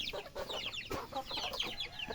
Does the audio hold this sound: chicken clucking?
yes